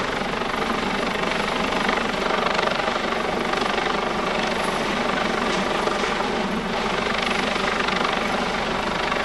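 A loud, continuous roar of a hovering US Coast Guard search and rescue helicopter at an airshow, with a steady beating of rotor blades, close and unbroken throughout.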